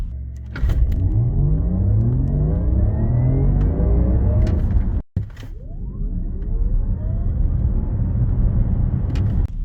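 A new Porsche Macan Turbo with 639 hp and 1130 Nm accelerating hard, giving a loud, steadily rising tone that cuts off sharply near the middle, then a second strong rising run.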